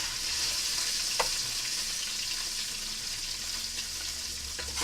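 Pork sizzling in its own rendered fat with no added oil, a steady close hiss of frying with occasional small pops and faint stirring scrapes, no voices.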